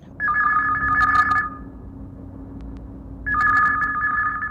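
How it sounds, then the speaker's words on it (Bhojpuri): A telephone rings for a caller on a Chhattisgarhi song-request call-in program on Akashvani Raipur radio. It comes as two loud, close bursts of electronic trilling separated by a pause of roughly two seconds, with no talking. "ई हवे पहली कॉल"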